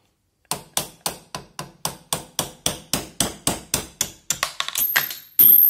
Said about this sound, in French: Donc là, il vous faut simplement un marteau et donc un chasse-goupille.